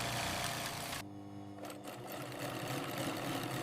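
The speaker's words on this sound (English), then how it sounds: "Next comes the sewing line, where skilled workers carefully assemble every panel into a finished jersey." Industrial sewing machine on a garment factory line stitching jersey panels made from recycled plastic, a fast steady mechanical whir that pauses briefly and resumes, fairly quiet and without talk.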